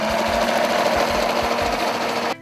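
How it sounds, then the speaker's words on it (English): Sewing machine zigzag stitching over fabric edges, a fast continuous mechanical whir with rapid rhythmic needle clatter, loud and close, stopping abruptly at the end. "keep going over the edges with a good strong zigzag stitch"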